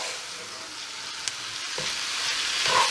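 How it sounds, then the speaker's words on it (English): Spiced minced meat fries on very high heat in a pan for a desi-style lasagne, giving a dense, steady sizzle with a faint scrape or two of stirring close by. "Go ahead and carry on stirring all of that"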